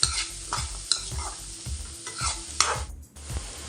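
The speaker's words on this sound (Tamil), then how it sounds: "நம்ம கட் பண்ணி வச்ச வெங்காயம் பச்சை மிளகாவும் ஆட் பண்ணி நல்லா வதக்கிக்கணும்" Onions and green chilies being stirred and sautéed in a kadai, with a steady sizzle under repeated scraping strokes of a spoon against the pan, close and continuous.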